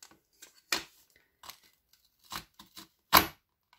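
An Action letter punch piercing scrapbooking paper: a handful of short, sharp crunching snaps spaced irregularly, the strongest near the end, close by with near silence between.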